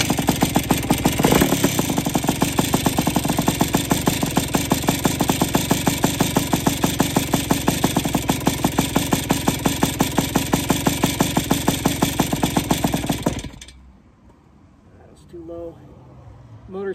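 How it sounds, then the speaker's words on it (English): A restored 1974 Honda CR125 Elsinore motorcycle engine runs with a steady, rapid two-stroke putter, loud and close, then cuts out abruptly near the end, leaving quiet. "Motor sounds a little bit weird."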